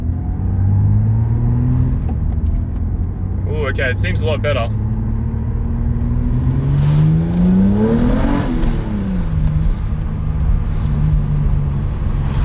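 A warmed-up Toyota MR2 V6 engine runs at a steady idle, then revs up through one rising sweep and settles back down. A person talks over it close to the engine.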